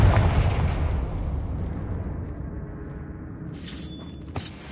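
A Confringo spell explosion in Hogwarts Legacy: a loud burst up front that decays into a long rumbling tail, followed by a couple of sharp crackling pops near the end.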